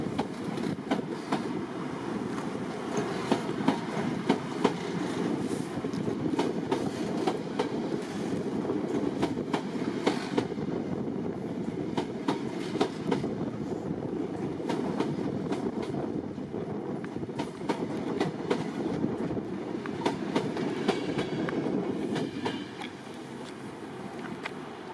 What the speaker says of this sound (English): here is one now at Ipswich with a Class 90 taking a Class 37 to Norwich Crown Point Depot